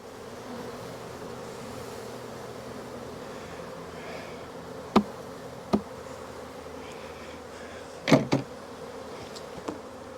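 Honey bees crowd the inner cover of a Demaree hive, their steady, close buzzing humming throughout, broken by a few sharp knocks and clicks of the cover being handled.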